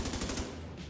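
Quick burst of pistol gunfire in a video game, several rapid sharp shots packed into a fraction of a second, then trailing off.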